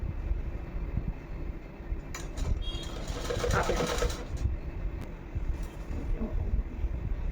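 A sewing machine hums steadily as it stitches a party-wear frock for a first birthday, a continuous close mechanical whir with faint clatter and some background noise.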